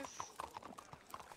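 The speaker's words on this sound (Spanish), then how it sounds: "Es un caballo." Horse hooves clip-clop in a Blackwater ranch roleplay game, a quick, irregular run of soft hoof knocks at moderate distance under a faint voice.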